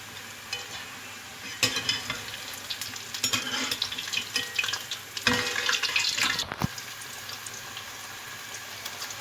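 Spinach and onion pakoras fry in hot oil with a steady bubbling sizzle, joined by intermittent stirring and splashing sounds near the pan.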